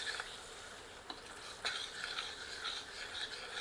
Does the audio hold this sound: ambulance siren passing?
no